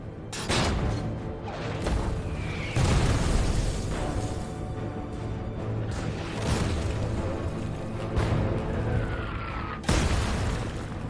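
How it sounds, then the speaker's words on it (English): Heavy World War II German artillery barrage in a documentary reconstruction, repeated deep booms and blasts rolling over a rumbling background, one sharp near impact near the end, no talk. "The Reginas can only take cover and wait for the German barrage to ease."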